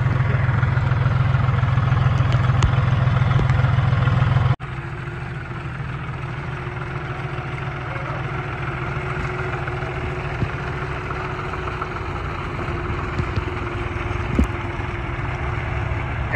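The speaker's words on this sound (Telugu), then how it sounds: "ఎట్టకేలకు మా ఫ్రెండు ట్రాక్టర్ నడుపుతుండు." A tractor engine runs steadily as a friend drives it during planting on a farm, a close, continuous low drone that is louder for the first few seconds and then settles slightly quieter.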